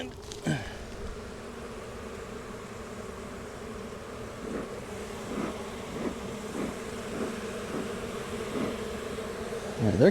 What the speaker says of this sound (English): We got lots of bees.